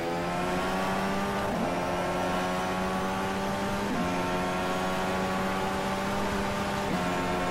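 Indy car engine in rFactor 2, a steady high-pitched whine held at near-constant revs, with brief dips at each gear change, loud and continuous with no talk.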